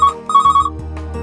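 A telephone rings for an incoming call to a helpline, with repeated electronic ringtone bursts, loud and close, with no voices.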